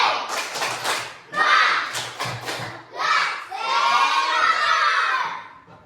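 Primary school children in a classroom doing a rhythmic clap-and-chant routine, bursts of clapping alternating with loud unison shouting from the group.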